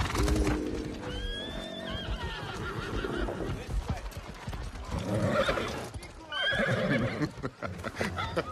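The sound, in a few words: horse neighing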